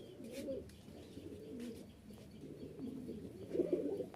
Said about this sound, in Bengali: প্রতিটা কবুতরের ডাক দেখলেই মন ভরে যাবে, চমৎকার ডাক